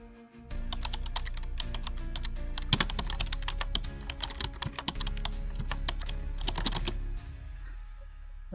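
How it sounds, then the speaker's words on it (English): Rapid, continuous clatter of keys on a computer keyboard, steady and close, with a brief pause near the end. "After typing your email, you click on login."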